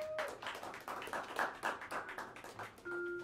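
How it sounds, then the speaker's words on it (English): Audience clapping for a drummer at a jazz club, a patchy run of separate handclaps from a modest crowd, moderately loud and close, with a steady tone sounding near the end. "give a warm round of applause for the great Charles Gould on the drums"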